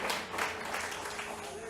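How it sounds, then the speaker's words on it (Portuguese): A church congregation applauds during a worship service, a steady wash of clapping lasting under two seconds, with voices mixed in the crowd noise. "Dê um aplauso ao Senhor, querido, em nome de Jesus."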